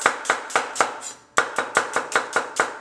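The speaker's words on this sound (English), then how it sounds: "we have 3 pounds or so of onions for starters, and we are going to cut it all up" Onions being sliced with a knife on a board for French onion soup, about eleven crisp, evenly spaced chops close up with a brief pause partway through, no voices.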